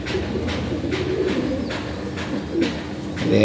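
Pigeons coo in a loft where the birds are kept, including one with a tilted, twisted neck condition, their low repeated calls pulsing steadily through the whole stretch over a busy background murmur.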